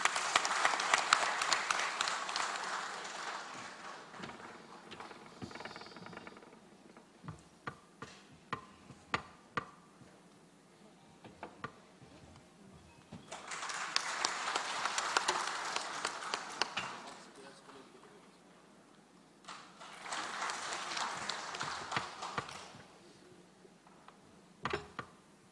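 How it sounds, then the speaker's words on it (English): Audience applause at a Damodar Valley Corporation operations and maintenance conference, rising in three loud sustained bursts of clapping separated by quieter stretches with scattered claps and murmuring. "with a big round of applause from the audience"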